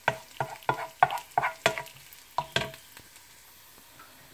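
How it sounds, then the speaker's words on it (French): Onions fry in a pan while being stirred. Rhythmic scraping strokes knock against the pan in quick succession over a faint sizzle, then the stirring eases off. "Les oignons commencent à brûler"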